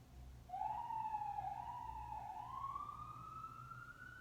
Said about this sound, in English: Is that a police car?